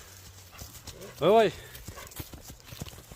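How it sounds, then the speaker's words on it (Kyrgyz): English thoroughbred horses' hooves clip-clop on the ground in a steady patter, while voices talk throughout and one loud, brief exclamation rises above them partway through. "Английский жылкылар кандай болду экен,"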